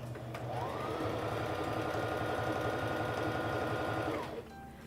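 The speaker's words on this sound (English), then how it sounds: "I'm going to begin sewing by pressing on the foot control." A SINGER Fashion Mate 3342 sewing machine stitches through scrap fabric, a steady close whir that ramps up quickly, holds an even rapid mechanical buzz for about three seconds, then winds down and stops.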